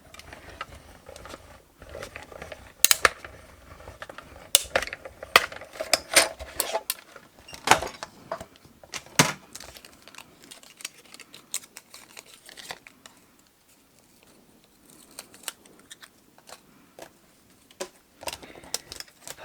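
A die-cutting machine feeds stacked sheets of Stampin' Up! paper through and cuts them in one pass, giving irregular near crinkling, cracking and crunching bursts, loudest in the first half and then sparser, with no talking.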